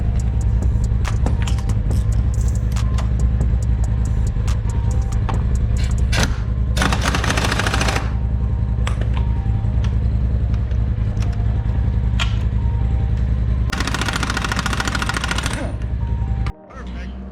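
A pneumatic impact tool works the front sprocket off a Polaris engine during an engine swap. Compressor noise rumbles throughout, broken by two long loud rattling bursts of the air tool and short clanks.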